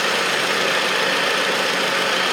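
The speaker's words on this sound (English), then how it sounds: "we're going to let the car run just like this for about 5 minutes" A car engine idling steadily while the AC system is being treated, a close, loud, even rumble that holds without change throughout.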